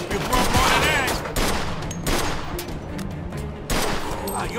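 Gunfire in the Mafia II Definitive Edition crime game, rapid bursts of shots cracking repeatedly over a few seconds, loud and close, with shouted voices mixed in.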